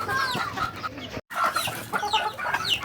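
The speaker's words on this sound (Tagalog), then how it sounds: "kumakain na yung mga alaga nating mga heritage chicken, tsaka native chicken natin, tsaka mga pato" Heritage and native chickens feed alongside ducks in a backyard flock, giving a steady stream of close clucks and fowl calls with brief rooster notes, plus a momentary silent break partway through.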